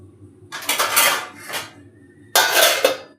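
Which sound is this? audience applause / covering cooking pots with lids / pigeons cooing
covering cooking pots with lids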